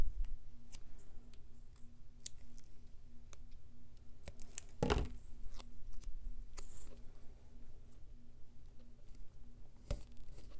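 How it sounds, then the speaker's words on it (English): Scissors snipping paper at a desk, a few quiet sharp cuts and clicks with one louder snip midway, over a soft background hum. "I'm gonna snip this just to make it a little more interesting."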